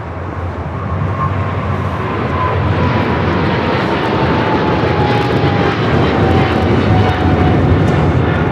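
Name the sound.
Boeing 777 taxiing at LAX airport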